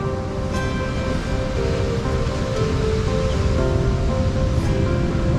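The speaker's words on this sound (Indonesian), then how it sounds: "Aliran sungai tadi" A river stream flows steadily near Seruni Beach in Donorojo, Pacitan, giving a dense, continuous rushing wash of water with a faint steady tone running through it, loud and unbroken, with no voices.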